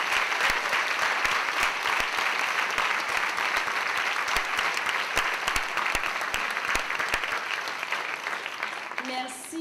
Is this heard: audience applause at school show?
yes